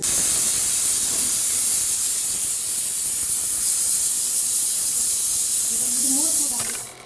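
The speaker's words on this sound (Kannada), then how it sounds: "ಈ ಕಡೆ ಕುಕ್ಕರನ್ನು 3 ಕೂಗು ಆಗ್ತಾ ಇದೆ. ಈಗ ಲಾಸ್ಟ್ ಕೂಗು ಆಫ್ ಮಾಡ್ಕೊಳ್ಳೋಣ" A pressure cooker whistle vents steam in one long, loud, steady hiss nearby while bamboo shoot gojju is being cooked, fading out at the end as faint voices begin.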